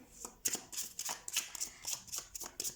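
Tarot cards being shuffled by hand, a quick run of crisp riffling flicks repeating in steady bursts close up, with no talk over them.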